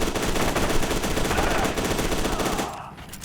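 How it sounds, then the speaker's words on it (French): Sustained machine-gun fire in the shooter game F.E.A.R. 2, a dense rapid burst of loud gunshots lasting nearly three seconds before cutting off abruptly into near quiet. "je peux vraiment rafaler quoi, j'ai pas besoin du tout de faire attention"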